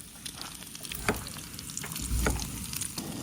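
Eggs, onions and bacon frying in a pan for a camp breakfast in Death Valley's Saline Valley, a steady close sizzle with occasional crackles and pops, no talking.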